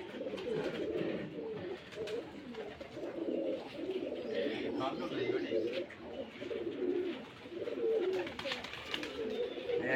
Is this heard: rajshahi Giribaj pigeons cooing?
yes